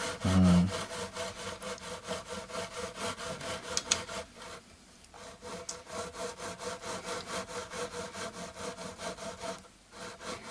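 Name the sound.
grinding frets on a guitar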